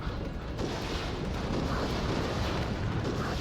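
An artillery barrage in the game Crossfire: Legion rumbles as a steady, dense roll of distant blasts, fairly quiet, with no clear single impacts standing out.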